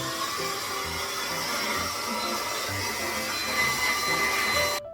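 Hair dryer fitted with a diffuser blowing steadily while drying type 4 hair after a wash-and-go with gel, a continuous loud, close whooshing hum that holds for several seconds before cutting off abruptly at the end.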